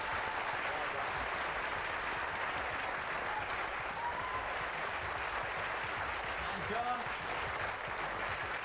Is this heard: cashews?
no